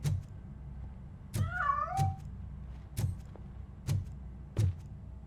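A cat meows once in the middle of a video game, Robocop: Rogue City, amid a run of soft, evenly spaced low thuds and clicks that pulse about once a second.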